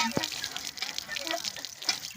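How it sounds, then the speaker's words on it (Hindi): Hot water gushes steadily from a tap in a village home, making a close, continuous hiss and splash with faint voices underneath. "वाह पानी आ रहा है, बड़ा अच्छा ज़बरदस्त पानी"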